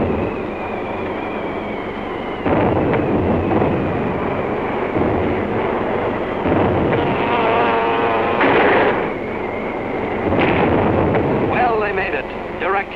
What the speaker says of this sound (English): Direct hits with those 600-pounders of TNT blowing up right in Hirohito's face